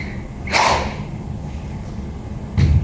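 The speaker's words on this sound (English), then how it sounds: "give me really high pitch whoosh sound on the way down" Two sharp, high-pitched whooshes of a swing cutting through the air on the downswing, one early and one near the end, with quiet between them and no talking.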